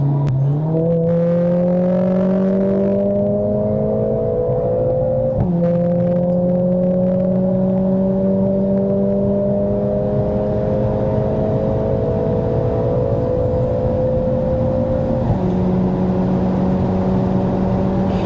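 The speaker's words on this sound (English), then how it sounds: "150 mile an hour just casually on the motorway, man" A Mercedes A45s AMG engine pulls hard on a motorway, its rising harmonic drone climbing steadily through two gear changes, loud and continuous with no talk over it.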